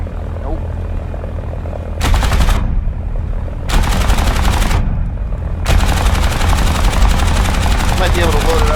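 Bursts of machine gun fire from a Ki-43-II fighter in War Thunder, three long loud strafing runs over a constant drone of the aircraft engine.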